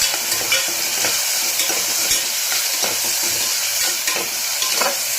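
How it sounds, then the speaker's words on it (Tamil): Tomatoes and green chillies sauté in a pan for a biryani, giving a steady bright sizzle with frequent soft stirring scrapes, close and continuous throughout. "தக்காளி போட்டுக்கோங்க. பச்சை மிளகா போட்டுக்கோங்க. போட்டு நல்லா வதக்கி விடுங்க."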